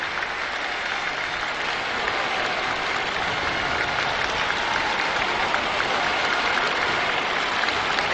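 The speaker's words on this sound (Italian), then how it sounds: "Gli applausi" A packed crowd in St. Peter's Square applauding the newly elected Pope Paul VI: a continuous wash of clapping and distant crowd noise, even and sustained from start to finish.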